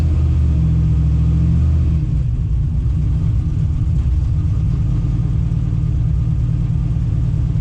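A turbocharged LS V8 in a Chevrolet C10 idles on a freezing cold start with a deep, steady rumble; the pitch drops and settles after a couple of seconds, then holds a continuous low drone.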